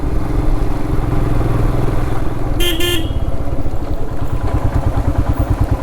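Vehicles pass on a mist-covered mountain road on a monsoon ride from Lonavala to Bhimashankar, with a steady engine drone and a short horn blast near the middle, no talking.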